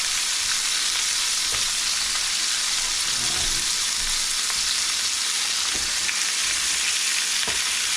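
Dinakdakan, with liver among the meat, frying in a pan: a steady, loud hiss of hot oil that runs unbroken throughout, with faint clinks and stirring under the sizzle and no talk.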